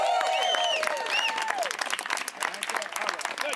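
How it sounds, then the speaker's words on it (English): Wedding guests applaud in a dense burst of clapping, close and lively, with voices cheering and calling out over it. "Let's give him a round of applause."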